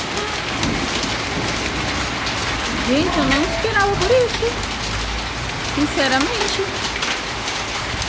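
Hail pelting the ground in a storm in Ribeirão Preto, Brazil, a dense steady rattling patter throughout, with a voice talking over it now and then.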